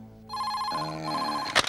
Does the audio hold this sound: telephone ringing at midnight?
yes